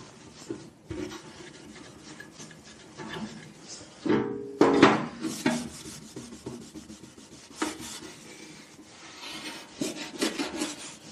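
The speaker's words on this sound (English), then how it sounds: "give the whole mud guard a bit of a rub down with some" A scooter mudguard gets rubbed down with brake cleaner, making close, scratchy wiping and scrubbing strokes in an uneven rhythm, with a louder clunk and rattle near the middle as the part or cloth shifts.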